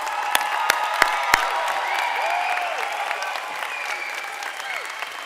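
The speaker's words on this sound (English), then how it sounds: "let's give them one more round of applause" Sustained applause from an audience filling an auditorium for graduates at a university commencement ceremony, steady dense clapping throughout with a few sharper nearby claps and faint crowd murmur beneath.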